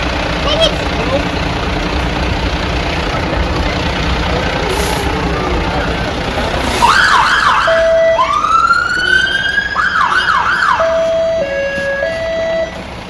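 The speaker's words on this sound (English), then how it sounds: "So this is our fire engine. It's a Mercedes Mark III fire engine." A Mercedes Mark III fire engine's siren starts partway through, wailing up and down and then switching to a sharp alternating two-tone pattern. It sounds loud and close over a steady rumbling background.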